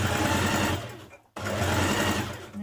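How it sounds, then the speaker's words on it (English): A sewing machine stitches a skirt pocket in a fast, close, even whir, stops briefly for a moment, then starts stitching again. "you're going to stitch a line of stitching on all 4 pockets"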